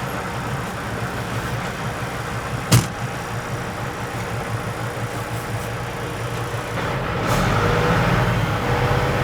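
A Pacific P16 heavy haul truck rumbles steadily as it drives a lap around the shop, its engine droning throughout, with one sharp hiss or clank partway through and the sound swelling louder near the end.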